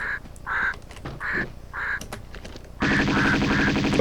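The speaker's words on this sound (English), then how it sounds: "when it comes to the crows, they're not quite as dangerous as Bartoli's thugs" Crows in Tomb Raider 2 give a run of harsh, evenly spaced caws, four or five loud calls in a row, then a denser burst of overlapping cawing and clatter.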